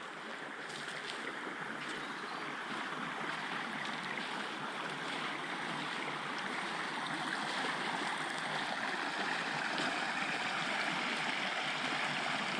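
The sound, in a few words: water flowing in a creek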